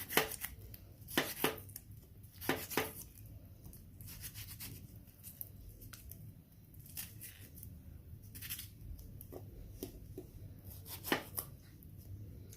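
Knife chopping food into big pieces for a fish stew with tomatoes, a series of sharp, irregular close-up cuts against a board, with quiet pauses between strokes.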